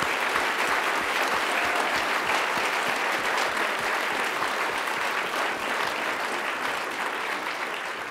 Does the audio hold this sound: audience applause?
yes